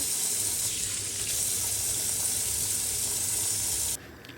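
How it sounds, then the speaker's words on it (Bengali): Crab and squid being rinsed under running water, a steady rushing tap stream splashing over the seafood for about four seconds before it drops off abruptly, with no talking. "সি ফুড তো এখন এগুলা একটু ধুচ্ছি আমি ধুয়ে ধুয়ে ধুয়ে করছি"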